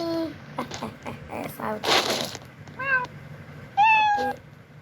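A cat in the Granny horror game meows repeatedly, several drawn-out cries spaced across the moment, mixed with a speaking voice and a burst of noisy game sound.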